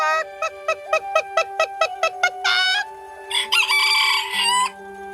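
Roosters crow on a quiet street in central Hanoi, loud and close: a rapid run of short, repeated calls leads into longer drawn-out crows, with a second bird overlapping near the end.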